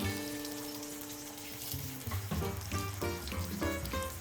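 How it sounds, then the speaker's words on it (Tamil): Slices of elephant yam go into hot oil, and the frying swells after a couple of seconds into a loud, steady sizzle and crackle that holds close and constant to the end. "ஒவ்வொரு ஸ்லைஸாக எடுத்து நம்ம போடணும். அந்த எண்ணெயில் படுற மாதிரி நம்ம போடணும்."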